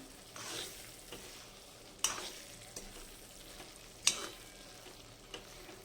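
Stuffed brinjal curry frying in a pan and stirred, a soft continuous sizzle broken by a few sharper spoon scrapes and knocks against the pan, close and fairly quiet, with no talking.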